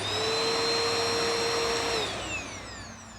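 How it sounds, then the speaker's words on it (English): Refurbished Bissell Powerforce Helix Turbo Rewind 1797 upright vacuum cleaner running, a steady loud whine with a high motor tone that drops in pitch as it spins down near the end. "So let's turn it on. See how bad it sounds."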